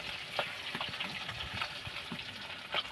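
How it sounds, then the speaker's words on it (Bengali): Potato pieces seasoned with turmeric and salt frying in oil over a clay stove, a soft steady sizzle with light stirring scrapes, fairly quiet and close. "আলুগুলো ভেজে নেবে একে একে করে"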